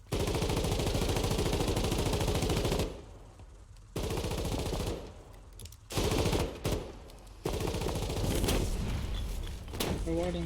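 Sustained bursts of loud, rapid automatic gunfire from a shooter video game, broken by short pauses, with brief quieter gaps and a few separate shots toward the end.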